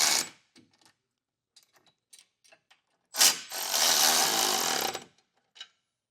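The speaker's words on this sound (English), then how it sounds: "then that same 19mm socket for our two long bolts, but we'll also use a wrench on the nut side" Power tool whirs as the long bolts on a Jeep base plate are tightened with a 19mm socket, a two-second burst after several small clicks and taps, with a short final buzz.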